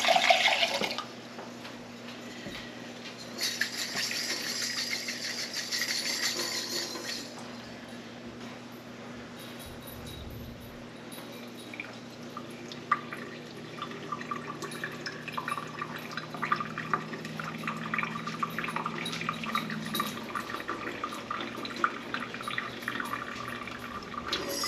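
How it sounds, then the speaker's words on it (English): Water trickles and splashes steadily as big bean sprout seeds are rinsed by hand in a container, close and moderately loud, with a faint hum beneath and a few sharper clicks and splashes. "These I'll just rinse with my hand because they're big seeds."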